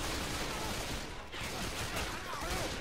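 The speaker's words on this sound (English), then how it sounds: "God, I am so glad that they've set this up so you can shoot through the damn fence." Gunfire in the video game Left 4 Dead 2, fired through a fence: dense, rapid bursts of shots running continuously and loudly, with a brief dip midway.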